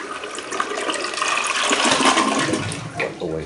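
A 5-gallon toilet flushes nearby, a loud rushing swirl of water that builds and then drains with gurgling toward the end.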